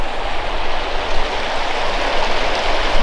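Rain falls in a steady, dense hiss beside a river in Normandy, a loud and even wash of droplets and flowing water with no pauses and no voices.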